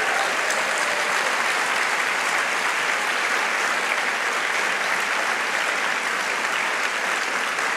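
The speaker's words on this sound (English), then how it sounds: "could you please give them a big round of applause?" Sustained audience applause for a panel of speakers at a Clinton Global Initiative session, a steady dense wash of clapping from a large crowd, even in loudness throughout with no voices rising above it.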